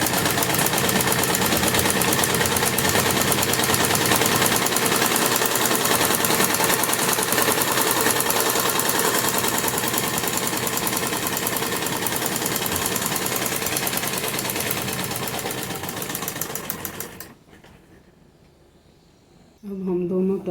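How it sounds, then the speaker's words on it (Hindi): Domestic sewing machine running straight stitching down the center of a salwar panel: a dense, steady whirring rattle, loud and continuous for about seventeen seconds before stopping abruptly into near silence. "अब हम एक सेंटर में सिलाई लगा लेंगे इनके"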